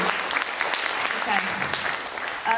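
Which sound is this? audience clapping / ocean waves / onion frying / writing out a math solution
audience clapping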